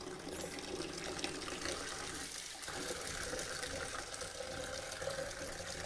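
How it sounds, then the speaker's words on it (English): Warm water is poured steadily into a mixing jug for preparing film developer, a continuous faint splashing gush from start to finish with no talking. "So there we've got a little bit of warm water that we'll put in."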